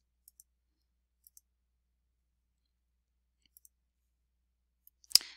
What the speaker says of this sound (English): Next thing I'm going to do is click the drop down menu and reset all my swatches